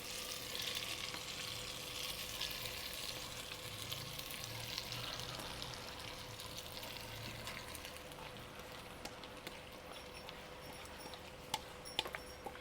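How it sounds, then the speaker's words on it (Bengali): Marinated chicken goes into a cooking pot on a gas stove and is stirred, giving a soft, steady sizzle and scrape that runs quietly throughout with a few small clinks near the end. "এবার হাঁড়ির মধ্যে দিয়ে দেবো যে ম্যারিনেট করা চিকেনটা"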